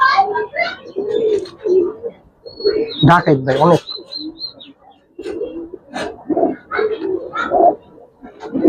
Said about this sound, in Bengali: এগুলো সব রয়্যাল কবুতর ভাই